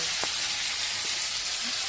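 Potatoes frying in oil during a home Nabanna harvest festival cook-up give a steady, close, even sizzling hiss, with a couple of faint clinks and no voices.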